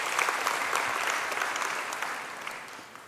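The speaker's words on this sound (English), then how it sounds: "Let's give them a round of applause" Conference crowd at a KwaZulu-Natal investment event claps steadily, a dense wash of applause that holds strong and then slowly thins toward the end.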